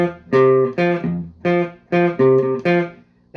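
Blues riff in F, a short three-note figure played loud and close as a series of separated, sustained notes repeating in a steady pattern with no talking.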